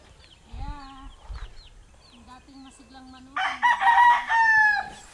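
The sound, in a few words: chickens and rooster crowing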